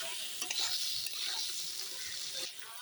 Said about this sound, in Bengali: দেখো পনির পনিরের আলুগুলো সুন্দর করে নেড়ে নিচ্ছি